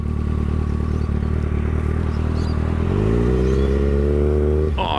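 A sportsbike engine drones loudly and steadily, then its pitch climbs as the revs rise around a gear change, ending with a brief sharp clatter; no voices over the motor.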